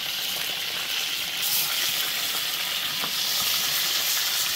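Sliced onion sautés in a clay cazuela, a steady, close sizzle and hiss of frying with faint stirring scrapes throughout, no voices.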